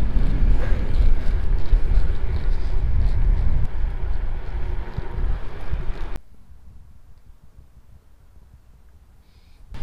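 Strong wind roars loudly against the microphone for several seconds while bikepacking in Belgium or the Netherlands, then abruptly drops to a much quieter, softer rush.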